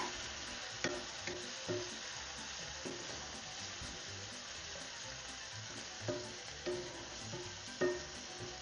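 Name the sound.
lasagna sauce cooking off in pan until dry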